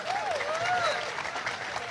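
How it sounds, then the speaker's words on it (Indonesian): Audience applause at a public talk, steady clapping throughout with a voice speaking over it. "Teman-teman, tepuk tangan dong."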